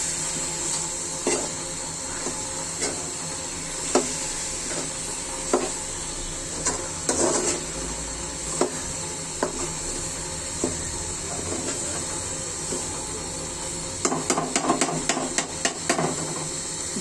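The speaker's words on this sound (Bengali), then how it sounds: "নাড়াচাড়া করে নিব।" Potatoes and spices fry and get stirred in a pan during home chicken cooking, with steady hissing sizzle and scattered scraping stir clicks, a burst of quicker stirring near the end, no talking.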